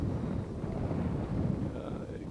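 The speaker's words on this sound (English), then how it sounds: "yeah, it is gusty." Gusty wind buffets a microphone outdoors, producing a constant low rumbling roar that swells and eases slightly without a break.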